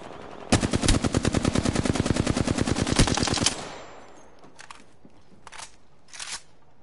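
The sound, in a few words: Knuckle Cluster firing in Apex Legends video game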